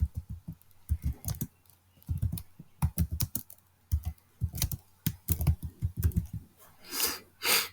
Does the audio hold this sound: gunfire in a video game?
no